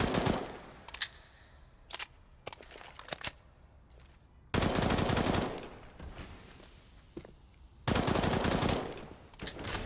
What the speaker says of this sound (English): Shots exchanged towards short and grenades as well